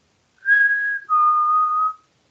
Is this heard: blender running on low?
no